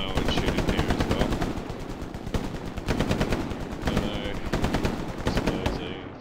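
Rapid automatic gunfire from a World War II shooter video game, with repeated loud bursts of machine-gun fire and single shots running nearly continuously under a busy battle mix.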